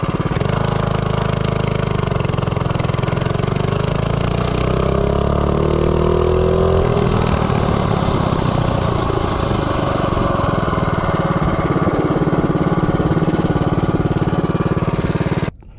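A 212 Ghost small engine fitted with a Slipstream flywheel revs up from idle under acceleration from 0 to 30, its buzzing note rising over several seconds, then settling into a steady loud drone until it cuts off.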